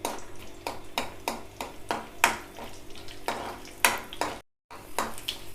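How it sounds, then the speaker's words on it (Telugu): Tempering seeds and crushed garlic fry in a pan for a sesame roti chutney: a quiet sizzle under a regular series of sharp spoon scrapes and taps, with one brief silent gap. "ఇంకో తాలింపు గింజలు ఇవి మంచిగా దోరగా వేయించుకోవాలి."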